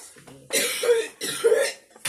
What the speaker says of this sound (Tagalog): Ubo na yan.